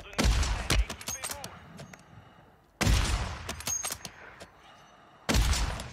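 Bursts of automatic gunfire in a Call of Duty Warzone gulag fight, three loud volleys of rapid shots with ringing tails and quieter gaps between, a voice faintly under the shooting.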